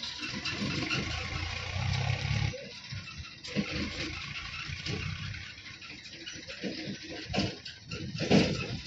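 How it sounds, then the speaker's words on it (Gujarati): A neighbour's tractor engine runs steadily on a farm at night during manure loading, a continuous low rumble with some rising surges, fairly close and alone without speech. "આ બાજુ અહીં બીજું ટ્રેક્ટર છે આપણા પાડોશીનું જ છે"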